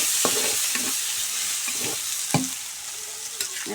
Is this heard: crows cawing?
no